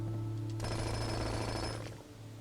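A jackhammer in the video game Blue Prince rattles for about a second and a half over a steady low electronic hum, loud and close, then cuts off.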